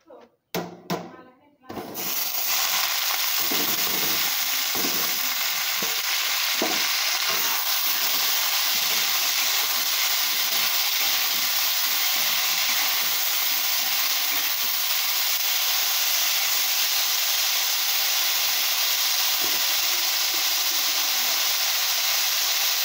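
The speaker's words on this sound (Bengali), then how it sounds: "কড়াই তেল দিয়েছি, আলুটা ভেজে নেবো" Potatoes fry in oil in a kadai wok. A few sharp clattering bursts open the sound, then a bright, steady sizzling hiss runs close and unbroken for the rest, with occasional faint knocks beneath.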